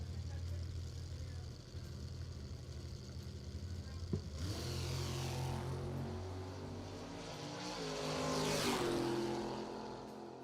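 A Vega hatchback launching at a drag strip, its engine note rising and roaring away in the distance, with a track announcer talking over it.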